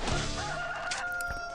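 Chicken clucks and a short crowing burst ring out over a steady electronic game backdrop in Swamp Attack 2, with a soft thump near the end.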